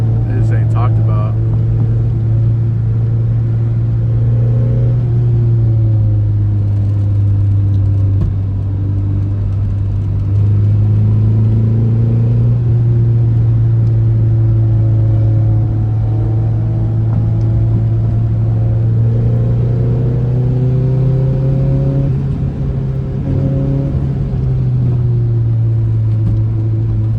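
A Nissan 240SX engine drones steadily while driving in a lower gear, a loud low hum with rising and falling harmonics as the revs shift, with voices at times over it.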